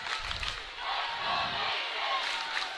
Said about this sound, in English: This crowd is rocking. Everybody's cheering right now.